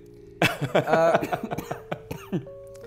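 A burst of harsh, rapid coughing up close, several quick hacks in a row, followed by a few weaker coughs and a faint tone.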